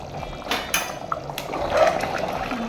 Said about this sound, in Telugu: చూడండి ఇలా తుకుతుకా ఉడుకుతుందో మంచిగా తుకుతుకా ఉడుకుతుంది కర్రీ